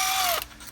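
A Snap-on Torx Plus socket on a ratchet loosens a valve body bolt on a 6L80/6L90 transmission. It gives a single short, loud burst of ratcheting that stops abruptly, with no talk.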